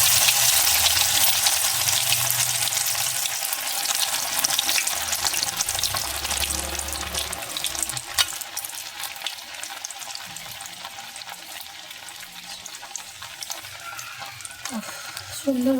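Fish pieces crackle and sizzle in very hot mustard oil, a dense, loud frying hiss that eases slightly over time, with occasional spatters and soft clinks near the end.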